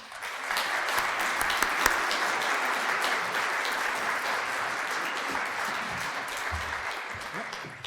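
Audience applause welcoming conservationist Stephen Packard to a Wild Ones nature talk, a steady wash of many hands clapping throughout, fairly close and full, with no voices over it.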